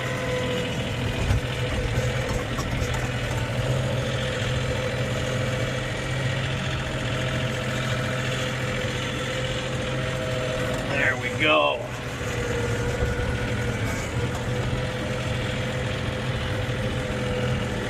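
A John Deere 3520 tractor engine running steadily in −20 degree cold, a continuous low idle rumble throughout with a brief dip near the end; someone speaks briefly over it.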